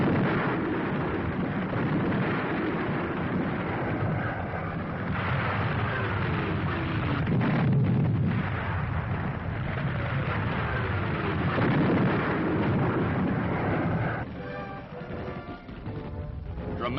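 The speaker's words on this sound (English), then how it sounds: "Forward went Monty's men. Enemy fire held no terror for these veterans." Battle noise from a World War II newsreel of Montgomery's British Eighth Army in the Tunisian campaign, with rumbling enemy fire and explosions running steadily for about fourteen seconds, then easing to a thinner, quieter stretch at the end.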